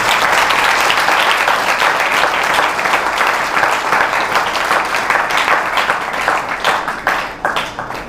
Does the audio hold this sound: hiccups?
no